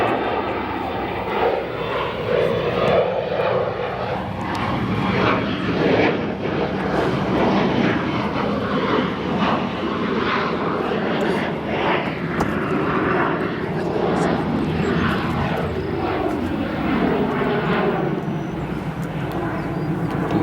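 A Boeing 777 airliner taxis at O'Hare airport toward runway 28 right, its engines giving a loud, steady roar that holds throughout, close by and continuous.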